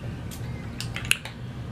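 A bottle of the original Kim K fragrance is sprayed in several short, crisp bursts of hissing mist, close up over quiet room tone.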